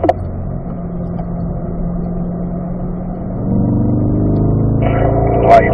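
Corvette accelerating out of a banked bowl on a race track during a performance driving school, a steady engine drone that rises in pitch and loudness partway through as the car pulls harder, close and continuous, no talking.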